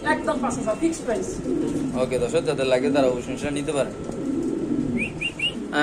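Pigeons of a high-quality fancy breed coo softly in a market or seller's yard, low throaty murmurs under someone speaking, with a few higher chirps near the end.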